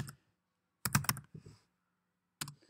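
Computer keyboard keys are typed in short clustered bursts of crisp clicks separated by pauses, close and fairly loud.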